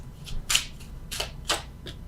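Tarot cards being drawn and shuffled from a deck, several brief papery swishes and slaps spaced through a quiet room.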